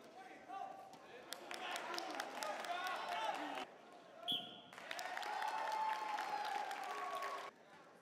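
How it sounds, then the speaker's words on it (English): Applause at a high school wrestling meet in a gym, a crowd clapping in two bursts separated by a brief pause, moderately distant, with a short tone and some voices between. "Let's have a nice round of applause for Jimmy"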